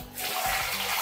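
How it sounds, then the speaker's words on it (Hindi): Cold water runs from a tap into a jug in a bathroom, a steady close rush of flowing water that swells after a quiet start. "ये मैं ठंडा पानी ले रहा हूँ"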